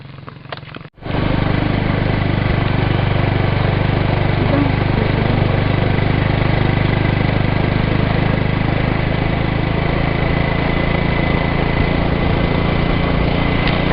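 A motorcycle engine starts and runs steadily on a rural village track at dusk, a close, loud, continuous buzzing drone with no speech.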